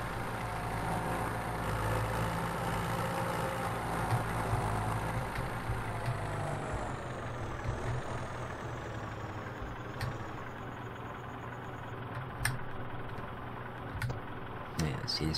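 Farm tractor engine in Farming Simulator 17, a steady low idling drone that runs the whole stretch with a few small clicks and knocks near the end, while someone talks over it.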